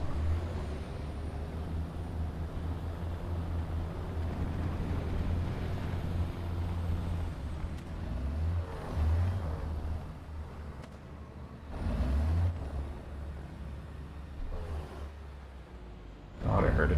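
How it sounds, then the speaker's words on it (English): A tank engine in War Thunder runs as a low, steady rumble throughout, with a few louder surges and thumps, while someone talks over it. "Thought I heard an engine, but it could have been my own."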